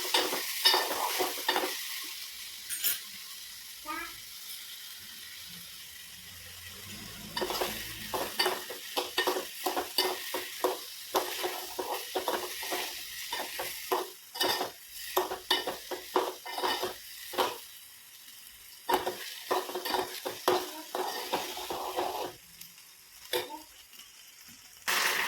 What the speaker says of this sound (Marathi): आणि मग सगळं बोरे तिथे टाकून दिलं जरा आणि थोडीशी साखर टाकून दिली.